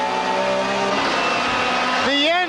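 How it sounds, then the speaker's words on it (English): A Ford Mondeo BTCC race car at Donington Park in 1993, its misfiring engine holding a steady high drone, then cutting out and surging back with a rising whine near the end, under a commentator's voice. "The engine is cutting out!"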